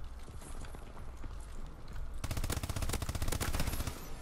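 Rapid automatic gunfire from a futuristic weapon in Call of Duty: Advanced Warfare, a quieter stretch of game ambience giving way midway to a loud, steady burst of fast repeated shots that runs to the end.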